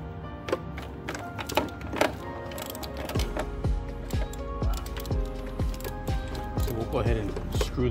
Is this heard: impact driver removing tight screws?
yes